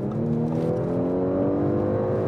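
Audi S5 Cabriolet V6 accelerating, a smooth rising engine note heard from inside the car, steady and moderately loud with no talk.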